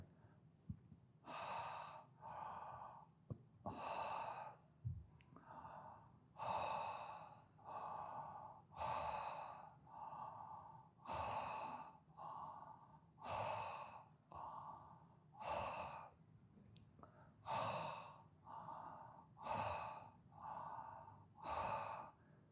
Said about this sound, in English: breathing from the back of the throat, like this, through the mouth.